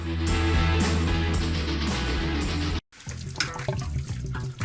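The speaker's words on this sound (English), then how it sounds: "Our water line broke." Water gushes loudly from a broken water line in a steady, dense rush that cuts out abruptly for a moment, then resumes a little rougher.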